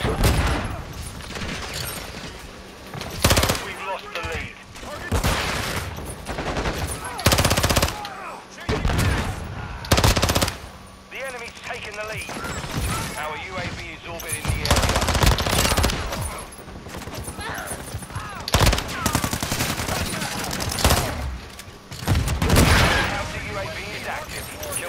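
Call of Duty: Modern Warfare II multiplayer gunfire, with repeated loud bursts and single shots hitting hard throughout. A player talks over the shooting.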